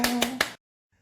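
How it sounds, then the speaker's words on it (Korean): Three quick claps close together at the end of a sushi nigiri cooking class, with a steady tone beneath, then silence. "박수."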